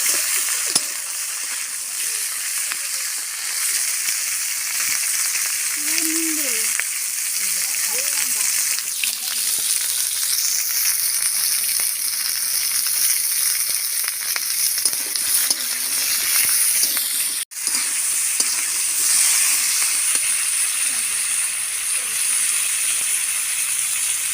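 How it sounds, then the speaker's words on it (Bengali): Tangra fish and prawns frying in a pan give a steady, close sizzle and hiss that runs throughout, with light spattering and a brief clatter near the end. "ভালো করে ভাজি।"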